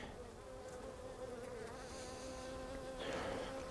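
Honeybees drone steadily at an open hive during an inspection of a split colony, a dense close buzz that holds throughout and swells slightly near the end, with no talk.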